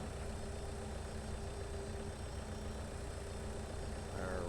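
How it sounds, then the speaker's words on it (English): A small tractor engine idles in Farming Simulator 22, a steady low rumbling drone at moderate level that continues throughout, alone without talking. "We'll get the little tractor here, fire it up"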